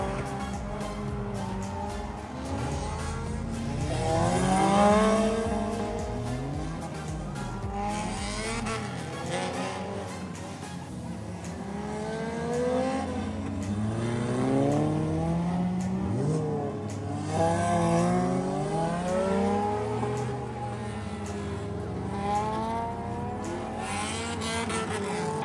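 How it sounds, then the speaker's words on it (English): Figure eight race cars at Kevin Harvick's Kern Raceway: several engines rise and fall continuously as cars accelerate, brake and pass, with occasional tire squeal, moderately distant and sustained with no talking. "such as figure eight racing."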